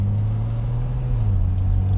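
A Mercedes W108 barn-find sedan speeds up on an open road, its engine giving a steady, close low rumble with a strong droning tone that rises slightly as it pulls, alone without talk.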